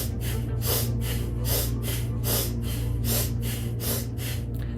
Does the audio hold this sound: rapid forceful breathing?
yes